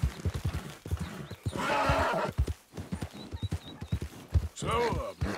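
A horse in the Red Dead Redemption 2 video game clip-clops with steady hoofbeats and lets out a couple of loud neighs and whinnies, close up with someone talking over it.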